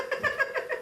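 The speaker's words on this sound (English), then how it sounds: "There's two cats in this room." A cat meows indoors in a room shared with another cat, a quick run of several short, fairly loud mews close by with no talking over them.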